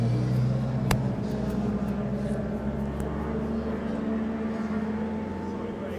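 A classic race car at Silverstone pulls away, its engine holding a steady drone with a sharp click early on, fading slightly while faint voices murmur underneath.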